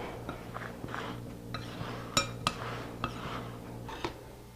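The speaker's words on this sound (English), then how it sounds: "Stir it up really well." A spoon stirring baking soda into a cake batter in a bowl, scraping with irregular clinks against the bowl's side, close and moderately quiet, no speech.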